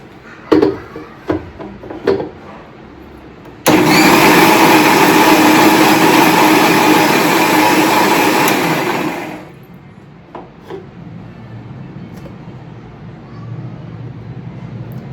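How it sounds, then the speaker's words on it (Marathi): Kitchen mixer grinder runs loud and steady for about six seconds while blending homemade kulfi batter of milk and sugar, starting and stopping abruptly between a few clatters of handling. "आता याला ना एकदा मिक्सर मधून फिरून घेते"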